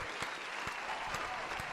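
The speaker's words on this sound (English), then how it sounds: "Round of applause for the winner." Steady applause from a crowd for the winner of a StarCraft 2 viewer tournament, a dense wash of clapping with a few louder claps standing out.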